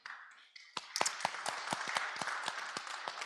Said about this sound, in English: we give you a big round of applause